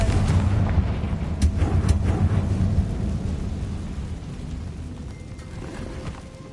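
Confringo fire-blast spells bursting in Hogwarts Legacy, a series of sharp booming blasts with rumbling tails, the first hits loud and close and then fading into a lower, rolling rumble.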